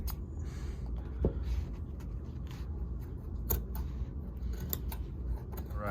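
Scissors snipping through denim jeans being distressed, a few short crisp cuts scattered across a quiet, close background with light handling noise.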